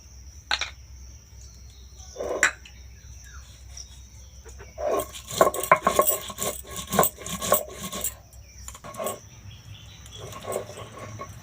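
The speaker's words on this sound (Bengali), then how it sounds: "কাঁচা লঙ্কা সর্ষে আর পোস্ত একসঙ্গে বেটে নেব" Green chillies, mustard and poppy seeds ground together for Bengali potol paturi, a series of close gritty rasping and scraping strokes, sparse at first, then rapid and clustered, over a faint background hiss.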